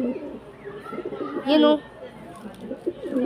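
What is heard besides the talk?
pigeons cooing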